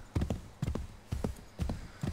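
A horse gallops in Assassin's Creed 3, four rhythmic clusters of hoof clip-clops about half a second apart, close and steady with no talk.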